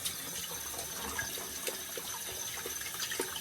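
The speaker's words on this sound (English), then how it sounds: "Rinse that brush out." Running tap water splashes while a shaving brush is rinsed out, a soft steady hiss with small wet clicks and drips, close and fairly quiet.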